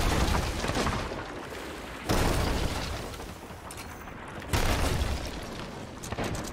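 Heavy cannon blasts boom twice in a dense, noisy Sea of Thieves battle scene, each followed by rumbling and crackling under continuous loud game noise.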